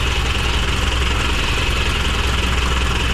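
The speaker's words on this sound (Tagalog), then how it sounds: "pagka umaandar yung ating makina." A Hyundai H-100 engine runs at a steady idle after stalling in a flood, with a suspected oil pump problem, giving a loud, continuous close-up rumble with no talk.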